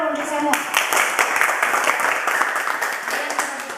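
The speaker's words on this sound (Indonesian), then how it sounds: "Tepuk tangan dulu untuk semua." Students in a classroom clap together after a lesson, a lively burst of many hands that stays fairly loud and even, with some voices mixed in beneath it.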